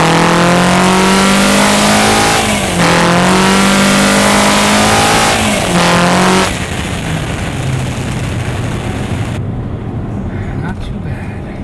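Toyota Corolla E210 with a 2.0 CVT and cold air intake accelerating in sport mode, a steady rising engine drone that dips and climbs again, loud and close, with people talking over it.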